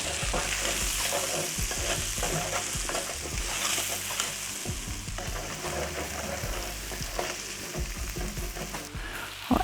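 Onions fry in an oiled pan for a Polynesian chicken curry casserole, giving a steady close sizzle broken by repeated scraping stirs, with no talking.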